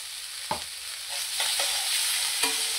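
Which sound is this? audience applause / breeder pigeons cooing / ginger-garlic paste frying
ginger-garlic paste frying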